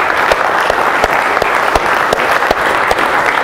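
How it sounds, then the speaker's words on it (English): An audience claps together at a maker talk: dense, even applause that keeps going without a break, with a few sharper claps standing out from the crowd. "I'd just like to give these guys a round of applause for doing another great job."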